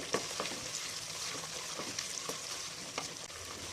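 Sliced big onions cooking in a pan for Thiruvathirai kuzhambu give off a faint, steady sizzle. Soft stirring scrapes sound now and then, and no one speaks.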